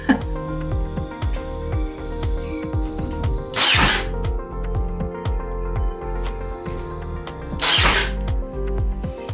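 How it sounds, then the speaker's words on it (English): A hand rivet gun sets a rivet during a camp setup: a run of rhythmic ratcheting squeezes, each ending in a sharp, close snap, twice over. "I had never used a rivet gun before."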